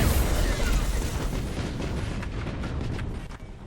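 Nova cannon fire and explosions in the space battle game Battlefleet Gothic Armada, a heavy booming blast that rumbles and fades over a few seconds, loud at first and then decaying.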